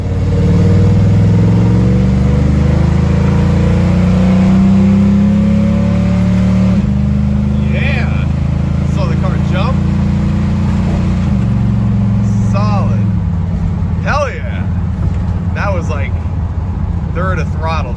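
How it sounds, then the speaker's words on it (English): A 1967 Dodge Coronet with a 727 automatic transmission accelerates hard, the engine note climbing, then dropping as it shifts into the next gear and rising again, loud and close from inside the car, with a voice talking over it. "So you can see how nice and firm it shifts into second again. Throws you back in the seat, even at low RPM."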